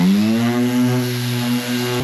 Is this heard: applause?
no